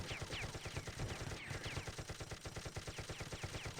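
Rapid bursts of automatic gunfire from a team shooter match, steady and close throughout, with repeated shots stacking into a continuous rattling volley.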